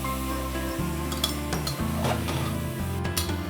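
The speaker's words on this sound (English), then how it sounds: "I'm now mixing the dal well with the onions and chili masalas" Chana dal is stirred with onions and chili masalas in a pan for Sindhi dal pakwan, producing continuous scraping and soft clinks of a utensil against metal over a low, faint sizzle, with no talk.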